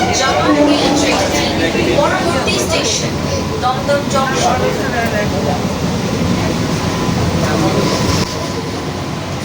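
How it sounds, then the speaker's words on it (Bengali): A Sealdah–Ranaghat AC local train runs between Bidhannagar and Dum Dum, with a loud, continuous rolling rumble inside the coach and voices over it. "ট্রেনটি এখন বিধাননগর স্টেশন ছেড়ে রওনা হচ্ছে তার পরবর্তী গন্তব্যস্থল দমদমের দিকে"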